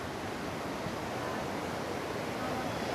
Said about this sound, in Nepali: this is बिजनबारीको